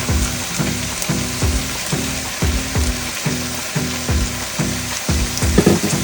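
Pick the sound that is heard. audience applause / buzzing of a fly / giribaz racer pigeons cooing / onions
onions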